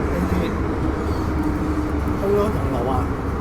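An MTR M-Train on Hong Kong's Island Line runs between stations, a steady loud rumble and rolling roar filling the whole stretch with no pauses.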